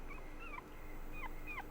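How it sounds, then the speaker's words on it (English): A dog in the video game Rule of Rose gives a few short, high whimpering yips in two brief bursts, moderately faint against a steady low background hum. "As the girl approached the sign, she heard a dog's bark."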